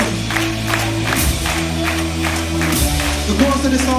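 A live audience claps hands in a steady rhythm at a World Changers live worship concert, the claps falling about twice a second over loud sustained music and singing.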